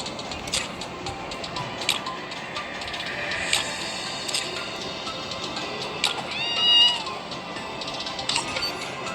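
A pet cat in the Free Fire video game meows repeatedly in short, bright calls, some drawn out into a rising caterwaul, over a busy bed of game effects and mechanical clicks.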